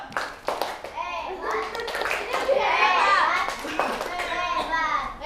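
A class of children in an Indonesian primary school coding lesson claps together in scattered bursts, mixed with loud overlapping kids' voices and an adult speaking close by.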